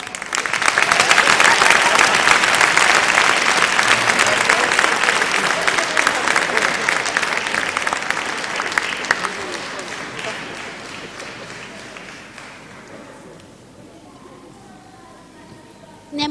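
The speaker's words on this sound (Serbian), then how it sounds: "koja god Marija da bude bolje u ovom show dance plesu, mislim da zaslužuje aplauz" Audience applause after a show dance performance in a televised dance competition final, loud and sustained clapping from a large crowd that slowly fades away, with a voice talking faintly near the end.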